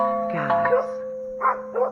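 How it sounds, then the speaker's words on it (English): A doorbell made from an old radio transmitter's bell housing rings with a steady, sustained metallic tone, while short bursts of voice-like sound rise over it. "Here's the doorbell right here."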